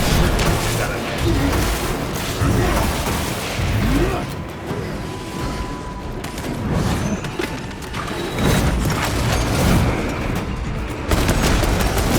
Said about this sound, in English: Away, frag grenade!